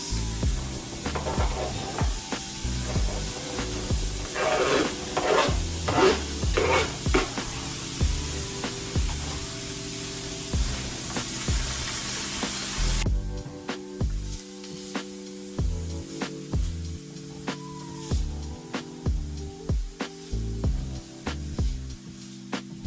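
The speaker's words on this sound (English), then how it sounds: "Next is the onions so that can caramelize." Onions frying and caramelizing in a pan give a steady broadband sizzle, loud and dense for the first half, then thinner and quieter over a tonal background.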